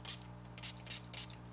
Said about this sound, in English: And I'm also gonna go in with my Simply Styling spray.